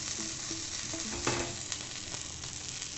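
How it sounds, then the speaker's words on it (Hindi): A dhaba-style aloo paratha roasting on a griddle over a medium flame gives off a steady, close crackling sizzle, with a few light scrapes and no voices. "हल्के हाथ से पराठे को अच्छे से सेक लेंगे"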